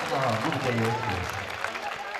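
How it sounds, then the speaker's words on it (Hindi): Villagers clap together at a temple event, a dense burst of applause running steadily through the short moment and mixed with a crowd murmur. "एक बार अपने सम्मान में, गांव के सम्मान में ताली ठोक दीजिए"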